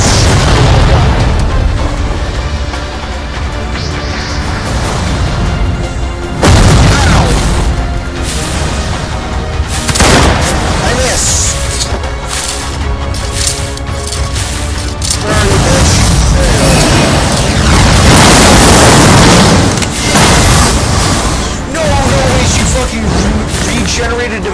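Gunfire and explosive booms from combat in the Roblox game Arcane Odyssey. The blasts are loud and repeated, with bursts and mechanical clatter landing in irregular clusters over dense game sounds.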